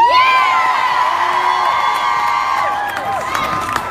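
A rally crowd at a gun reform gathering in Springfield cheers loudly, a sustained roar of shouts and whoops with high sustained yells, close and full, fading slightly with scattered calls at the end.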